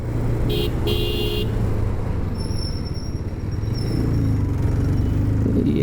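Road traffic on the way to Vijayawada, with a steady rumble of passing vehicles and two short car-horn toots early on, then fainter horns further off.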